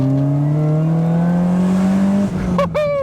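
A supercharged BMW engine pulls hard from close by, its tone climbing steadily under acceleration, then a quick break as the gear changes and the revs rise again with a sharp whine.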